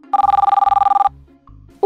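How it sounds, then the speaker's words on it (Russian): A telephone rings in a fast electronic warble, a single loud burst of rapid trilling that stops abruptly, followed by near silence and a faint hint of a voice at the end. "Ой, это мой телефон."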